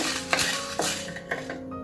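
Coriander seeds dry roast in a pan for carrot rice, with a metal spoon or spatula scraping and clinking against it in a few distinct strokes over a faint background hum.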